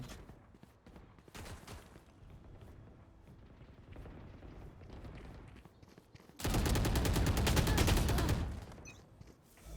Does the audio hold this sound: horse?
no